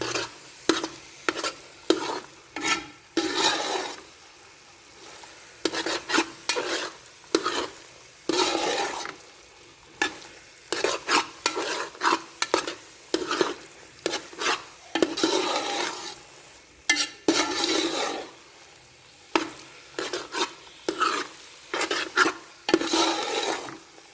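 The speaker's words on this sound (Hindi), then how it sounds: "इनको बस अच्छी तरह भूनना है। भूनने से भी जायका बहुत अच्छा आ जाता है।" Grated carrots for carrot halwa being stirred and fried in a pan, with repeated scraping stirs over a steady sizzle, close and fairly loud, no voices.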